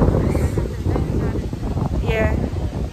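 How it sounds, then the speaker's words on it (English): Strong wind buffeting the microphone at a beach resort, a continuous loud roaring rumble with people talking underneath. "It's so windy, but the water looks so beautiful."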